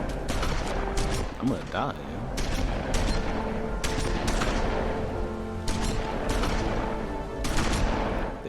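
Gunfire in the video game The Wolf Among Us, Episode 3 "A Crooked Mile", repeated bursts of rapid shots spread across the clip, with someone talking anxiously over the shooting.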